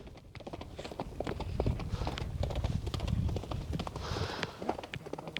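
Hooves of a racehorse pound in a rapid, irregular clip-clop during a Kyrgyz horse race, near and steady throughout with crowd noise beneath and no clear talk.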